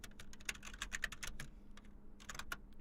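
Rapid, uneven keystrokes on a computer keyboard while editing in Vim, clicking in short bursts with a brief pause near the middle, close and clear with no talking.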